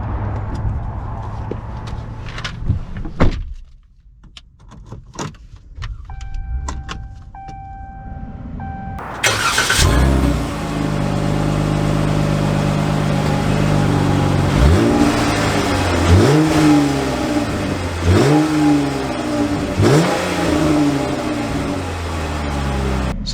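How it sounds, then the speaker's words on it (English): A 2021 Ram 1500 Warlock pickup with a V6 engine, heard first as clicks and chimes, then the engine cranking and catching with a loud start, then idling and pulling away with several rising revs as it shifts through gears. "So we are setting off here in this V6 Warlock"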